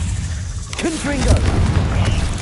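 Confringo fire blast spell in Hogwarts Legacy, a booming burst with rumbling low-end under it, overlapped by a shouted voice and continued game clatter.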